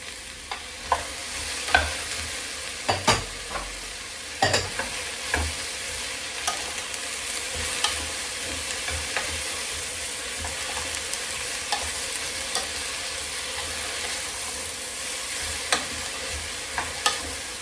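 Carrot and leek fry steadily in a pan for stock, a continuous soft sizzle broken by occasional scrapes and knocks of stirring, with no voices.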